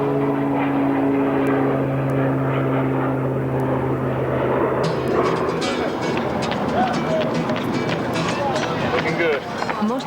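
A propeller plane carrying smokejumpers bound for West Yellowstone drones loudly and continuously, its engine pitch shifting partway through, with a voice talking over it.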